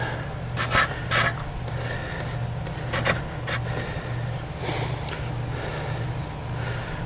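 Scraping and rasping as wire is stripped back for a pool part, a few sharp strokes clustered near the start and then fainter intermittent rubbing over a steady low hum.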